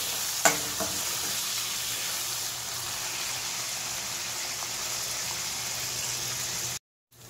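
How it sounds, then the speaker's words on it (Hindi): Cashews frying in hot oil for an Indian navratan korma, a steady close sizzle and bubbling that runs unbroken, with a small clatter near the start and no talk. "सेम तेल में काजू भी फ्राई कर लूंगी।"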